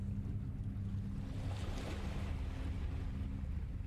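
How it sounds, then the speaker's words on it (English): Water waves lap and churn steadily in a video game, a continuous close wash of broadband noise with a low rumble and wind-like hiss, swelling slightly midway, with no voices. "Can hear waves lapping."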